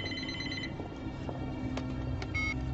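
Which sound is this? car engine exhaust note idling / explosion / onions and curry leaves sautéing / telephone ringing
telephone ringing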